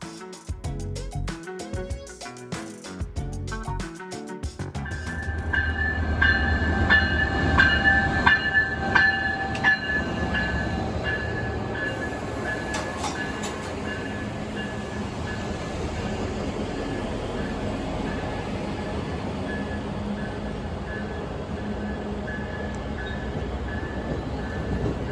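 The eastbound Amtrak Empire Builder passenger train arrives at Shelby, Montana. Clattering wheels on rail give way to a long, sustained horn blast over a steady, loud rolling rumble of the cars passing close by.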